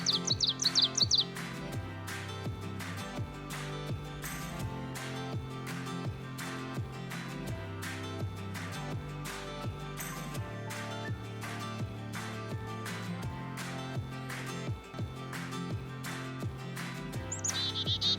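A bird-song alarm tone from an iOS alarm clock app plays on a loop, bright chirps and tweets over a repeating electronic melody that stays steady and fairly quiet.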